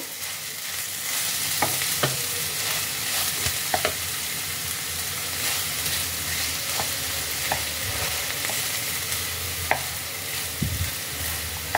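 Grated carrot frying in ghee for carrot halwa, with a steady close sizzle under repeated scraping stirs of a spoon against the pan, sparse clicks punctuating the continuous frying hiss.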